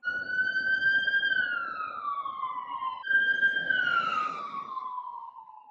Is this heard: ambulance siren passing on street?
yes